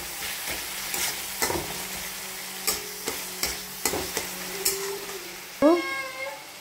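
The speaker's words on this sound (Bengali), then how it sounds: "লঙ্কাগুলো দিয়ে দেব, দিয়ে ভালো করে কষাবো।" Chillies frying in a pan for a Bengali tadka dal, a steady sizzle broken by repeated scraping stirs, then a brief cat-like squeal near the end, all close and moderately loud with no speech.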